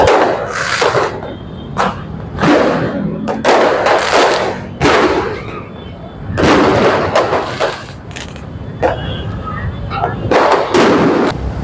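Rapid firecrackers thrown into a street burst loudly and repeatedly at New Year in Makassar, Indonesia, sharp cracks and thumps overlapping in irregular clusters, with distant crowd noise between them.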